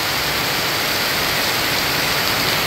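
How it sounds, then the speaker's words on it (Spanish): A heavy rainstorm pours down as a loud, constant broadband hiss of rain, steady and unbroken, with no voices. "Gran tormenta. Mire, gran poco de agua que cae."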